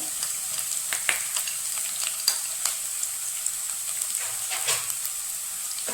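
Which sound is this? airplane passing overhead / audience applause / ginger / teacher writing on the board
ginger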